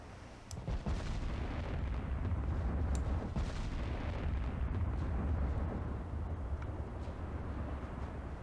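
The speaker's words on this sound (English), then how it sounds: "Ooh, 18-inch guns." Eighteen-inch battleship guns fire in the naval warfare game Ultimate Admiral Dreadnoughts, a heavy continuous rumble of distant artillery with booming blasts layered throughout, steady and moderately loud with no speech.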